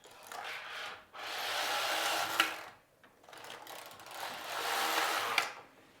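A Passap Duomatic 80 knitting machine knits rows of a child's sweater, its carriage sliding back and forth in two long swishing, rattling passes with brief pauses between, close and steady.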